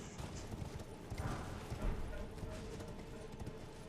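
Horse hooves clip-clopping at a steady gallop in the video game Elden Ring, a rapid rhythmic thudding that runs throughout over background game ambience, with a voice talking faintly beneath.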